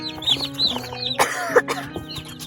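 Chickens clucking close by on a homestead, a run of short repeated clucks and squawks with one louder sharp call partway through.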